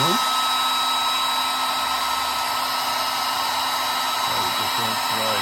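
A hair dryer runs steadily at close range to dry paint on a house finch painting, a loud continuous whirring hiss with a fixed high whine that holds evenly for over five seconds.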